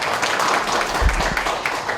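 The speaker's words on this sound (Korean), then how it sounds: "스마트 파트에게 다시 한번 격려의 박수 부탁드립니다" Brief broadband clapping from an audience at a company quality competition, applauding a team that has just finished presenting, dense and even for a couple of seconds.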